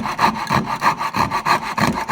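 A coping saw cuts wood in a vise to clear waste from a hand-cut half mitered dovetail joint, a close, steady rasping rhythm of about four strokes per second with no talk.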